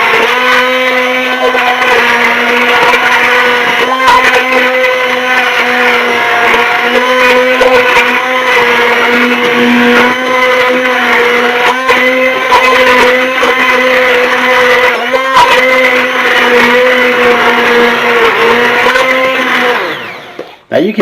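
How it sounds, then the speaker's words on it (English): A blender purees cooked apples for homemade applesauce, a loud, steady motor whir that holds constant for about twenty seconds before spinning down abruptly at the end. "We're going to puree this with our pureer."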